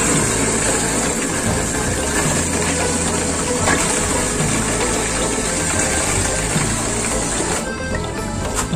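Water pours steadily and loudly to fill a container of AB mix hydroponic nutrient solution, a continuous close gushing rush with no pauses.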